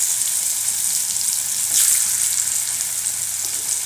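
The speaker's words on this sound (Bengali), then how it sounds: "এটাতে আমি প্রথম আমি আলুটা ভেজে তুলে নেব।" Potato pieces fry in hot oil in a home kitchen, cooked first for a fig curry, giving a steady, bright sizzle that stays close and even, with a brief swell partway through.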